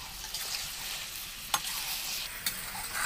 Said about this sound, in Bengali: খুব ভালোভাবে নেড়ে নেওয়া হচ্ছে, মাংসের সাথে সমস্ত মশলাগুলোকে ভালোভাবে যাতে মেখে যায় সেই জন্য ভালোভাবে নেড়ে নেওয়া হচ্ছে।